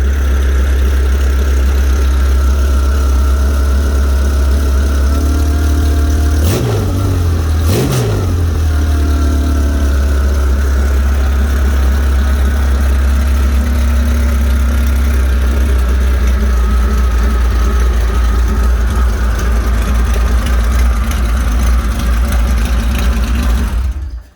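1970 Porsche 911T fitted with a 3.0 engine on carburetors, on a base tune with timing not yet set, running loud and close with a steady rumbling idle and a couple of quick throttle blips early on, no talking.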